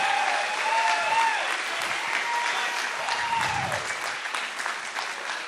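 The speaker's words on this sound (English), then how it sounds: "let's give a round of applause to both of these fighters" Arena audience at an MMA championship applauds both fighters, a dense, steady wash of clapping and crowd noise lasting throughout, with faint cheering tones riding above it.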